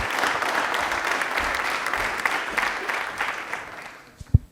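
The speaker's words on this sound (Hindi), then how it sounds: "तालियां अनीता जी के एक बार जोरदार होनी चाहिए प्लीज" A studio audience on a televised quiz show claps in a brief round of applause. The clapping thins and fades over about four seconds, and a single sharp thump comes near the end.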